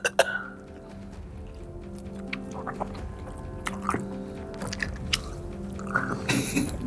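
A few short coughs close by, scattered among quiet rustling and mouth sounds, with a steady low hum underneath.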